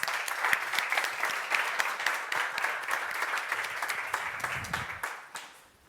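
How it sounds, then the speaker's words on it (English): An audience at a European cultural-sector event applauds to welcome a speaker, with a sustained crowd clapping whose individual claps stand out, fairly close and steady before fading out near the end. "So please receive Tanja with a very, very warm applause."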